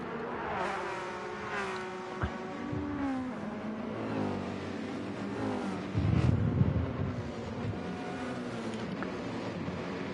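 Three race cars dueling on a circuit in a racing video game, engines whining and shifting pitch as they rev and climb, one car surging louder near the middle before the pack drones on steadily.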